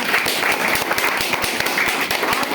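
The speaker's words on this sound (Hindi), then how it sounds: "प्लीज सर के लिए जोरदार ताली" An audience at a class or seminar breaks into dense applause, many hands clapping rapidly in a loud, continuous burst close by, with no voices over it.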